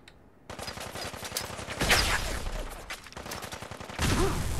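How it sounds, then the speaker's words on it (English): Gunfire erupts in Fallout 4 in rapid automatic bursts, loud and close, with rattling shots stacking into a continuous fusillade after a short quiet start. "Being shot at."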